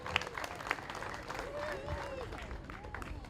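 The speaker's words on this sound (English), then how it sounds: "Give Amy a round of applause." An audience at the Central Iowa Fair 2016 applauds a candidate, a steady wash of many hands clapping at a distance that keeps going, with cheering and crowd voices mixed in.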